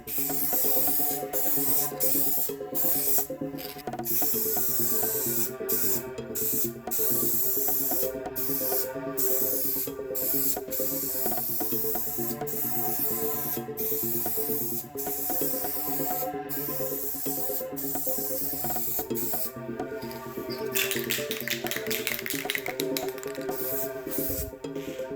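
Silver spray paint hissing continuously onto a Honda Elsinore rear fender, a close, steady aerosol spray with brief gaps between passes, lasting well over twenty seconds.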